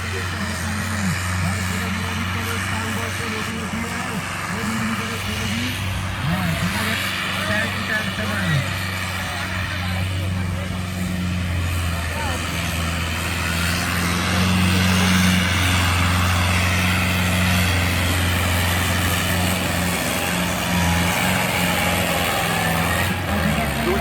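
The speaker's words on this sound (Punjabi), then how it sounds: "ਪਹਿਲਾ ਟਰੈਕਟਰ ਸਿਰੇ ਹੀ ਲਾਈ ਜਾਂਦਾ" Tractor engines roar steadily at a village tractor-trolley pulling competition in Punjab, a loud continuous low drone that swells slightly louder midway, with crowd voices and announcer talk running underneath throughout.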